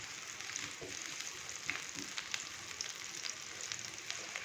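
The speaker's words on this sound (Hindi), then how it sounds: "प्याज को हम हल्का सा फ्राई करेंगे, जस्ट 1 से 2 मिनट के लिए, ताकि प्याज थोड़ा सा नरम हो जाए।" Chopped onion frying in hot oil, a steady bright sizzle with faint crackles and small pops scattered throughout, close and continuous without any talking.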